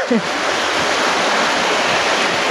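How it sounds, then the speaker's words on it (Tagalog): Steady, loud broadband wash of heavy rain pouring without a break, a dense hiss with a brief low thump right at the start. "Ayan, malakas po yung ulan."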